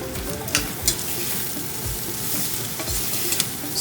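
Apples and onions sizzle steadily in a hot frying pan for a bacon jam, with a few soft scrapes and knocks of stirring over the constant frying hiss.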